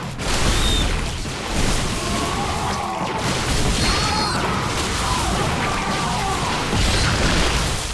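A StarCraft battle between Zerg roaches and four Protoss zealots and six stalkers, with a steady roar of booms, crashes and swishing weapon impacts running throughout at close, loud level.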